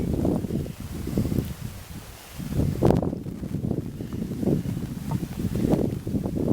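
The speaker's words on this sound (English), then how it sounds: "And there's the wind." Gusty wind buffets the microphone at a canyon overlook at Ghost Ranch in Abiquiu, New Mexico, with low rumbling surges rising and falling throughout and no talking.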